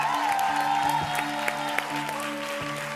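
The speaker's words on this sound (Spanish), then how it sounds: "Escuchen el aplauso del público de pie y los coach." Applause from a standing audience and coaches at a televised singing battle on The Voice Chile, steady and dense, with music and sustained tones running underneath throughout.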